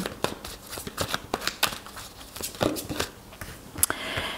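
Tarot cards are shuffled by hand, a close run of rapid riffling flicks and soft slaps coming in uneven bursts, with no voices.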